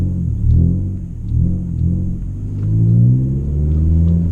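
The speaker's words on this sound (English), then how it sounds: "That's a good example of slipping the clutch" A manual car's engine revs up and down in a low, rumbling drone as the clutch slips, with several rising swells close by and no talking.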